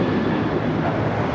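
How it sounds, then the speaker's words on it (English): A loud, steady roar from an American Airlines Boeing 737-800 taking off at LAX, a broad continuous engine rumble that holds level and unbroken throughout. "This is American Airlines 1292 taking off to Nashville on the 737-800"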